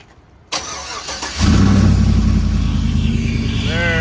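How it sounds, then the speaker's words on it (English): A car's engine cranks and catches on a remote cold start, then settles into a loud, steady idle close by, its low rumble continuous to the end with a brief whine rising near the close. "Let's fire her up. We'll do a cold start with the remote."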